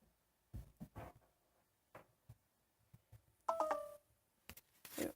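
A phone gives a short run of electronic low-battery warning beeps near the middle, with scattered clicks and handling taps before and after.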